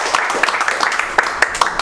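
Several people clap for a contestant at a live Android CPU repair competition class. The applause is scattered and uneven, with separate sharp claps spread across the moment, moderately loud and close.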